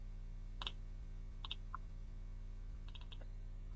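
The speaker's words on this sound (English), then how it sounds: "Just type here cmd" A computer keyboard is typed on at a command line in a few short bursts of crisp clicks, separated by pauses over a steady low electrical hum, close and fairly quiet with no talk.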